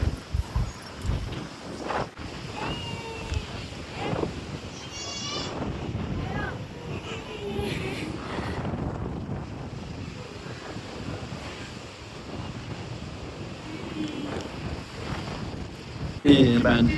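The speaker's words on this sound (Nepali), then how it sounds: "हावा लागिरहेको छ।" Steady wind buffets the microphone throughout, a rough low rumble with a brief louder gust near the end.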